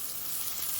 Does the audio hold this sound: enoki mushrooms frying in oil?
yes